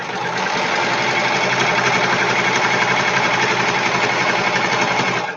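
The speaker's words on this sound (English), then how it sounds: "I'm going to use the serger here to sew those up." A serger sews curved seams on leggings being upcycled into shorts, giving a steady, loud, continuous mechanical whir that runs unbroken for several seconds with no talking.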